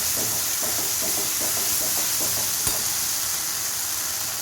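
Mustard paste being stirred into melted tomatoes in a hot pan for a Bengali kalai bora jhal, a steady close sizzle with scraping spoon strokes and one sharp clack near the middle.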